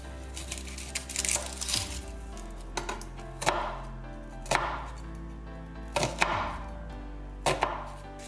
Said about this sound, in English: peel and finely chop 2 large onions